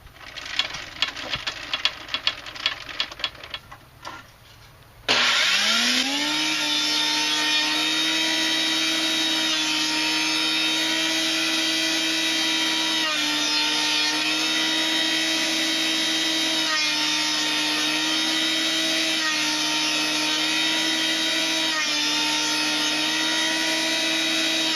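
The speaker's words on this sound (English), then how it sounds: "kind of habitually keep my planer cranked down so nobody sticks their hand in it" Wood planer switched on after a few seconds of quieter shop noise, then a loud steady whine and hum that runs on without a break, with no one speaking.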